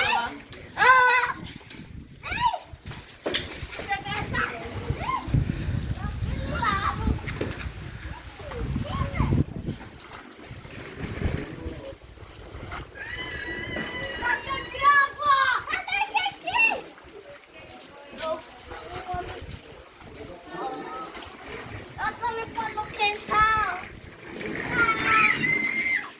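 Children play and splash in rainwater outdoors, with repeated splatters and water noise under frequent child chatter and an adult voice nearby, moderately loud throughout.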